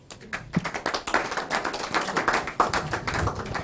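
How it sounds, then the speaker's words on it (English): Scattered clapping from a small audience at a fireside chat, individual claps distinct and uneven, building briefly then continuing at a moderate level. "You need a round of applause."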